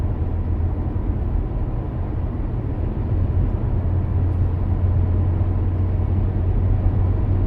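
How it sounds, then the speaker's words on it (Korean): A Hyundai YF Sonata LPG sedan with an aftermarket fuel-saving device fitted drives along, its engine and road noise forming a steady, low, even drone heard from inside the cabin, with no talking. "YF 소나타 LPG 쭉 한번 달려보겠습니다."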